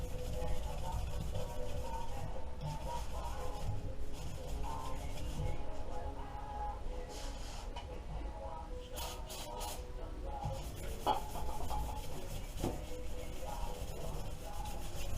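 Sandpaper rubbed by hand across a 2005 Subaru engine's head gasket surface, a steady, close scratchy rasp in continuous strokes with brief pauses, fairly quiet throughout.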